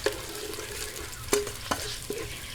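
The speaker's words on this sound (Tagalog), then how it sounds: "Umpisahan na po natin yung paggigisa." Garlic sautéing in a pan for Korean-style pork sinigang with kimchi: a steady sizzle with a few sharp stirring scrapes near the middle and end, close and moderately loud, with no voices.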